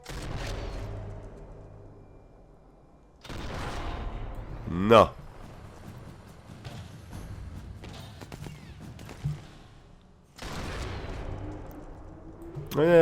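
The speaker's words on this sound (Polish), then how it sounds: "strzał w płuca" Rifle shots ring out in the video game Sniper Elite 4: three loud, sharp blasts, each trailing off in a long echoing decay, with quieter thuds and game ambience between them.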